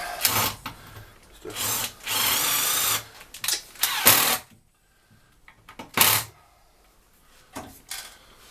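A power drill drives screws back into a large wood turning blank in several separate whirring bursts of one to two seconds, close and fairly loud, with quiet gaps between them.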